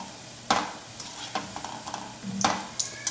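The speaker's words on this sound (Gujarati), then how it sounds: "મુઠિયાને આ રીતે કન્ટિન્યુ ચલાવતા આપણે તળી લેવાના છે" Muthiya fry in a pan under a soft, steady sizzle, with several distinct scraping stirs from a spoon at irregular intervals, all close by and without speech.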